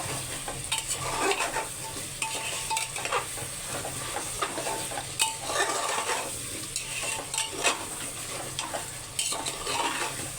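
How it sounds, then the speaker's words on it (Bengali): Beef and potatoes braise in a pan while being stirred. The sizzling hiss is continuous, with scraping and clinking from the utensil against the pan, and no voices. "আলুগুলো দিয়ে একটু কষিয়ে তারপর আমি ঝোল দিয়ে দেব"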